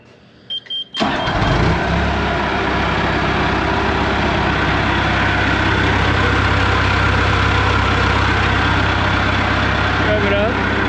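John Deere 450G dozer with a 4045 diesel engine cranks after a brief quiet moment, catches and settles into a loud, steady, rumbling idle that holds for the rest of the clip.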